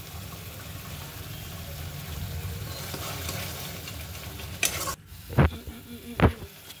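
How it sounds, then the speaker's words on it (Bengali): Spices, including Kashmiri chili powder for a vegetarian paneer butter masala, sizzle steadily in a pan. Several sharp stirring clanks and scrapes come near the end. "মশলাটা ভাজা ভাজা হয়ে গেছে,"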